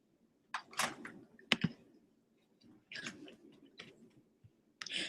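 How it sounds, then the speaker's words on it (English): Keys clicking on a computer keyboard as a comment is typed, quiet, close, and irregular, arriving in short clusters separated by brief pauses. "to post a comment, you just type it in and press post"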